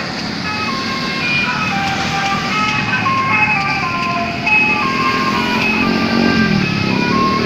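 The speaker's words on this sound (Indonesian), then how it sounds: "Telolet, telolet, telolet bro, mobil telolet tahu bulat." A melodic telolet musical horn on a vehicle, part of a mobile tahu bulat seller's car, plays repeating tuned notes loud and near over a steady road and motor background, with voices faintly present.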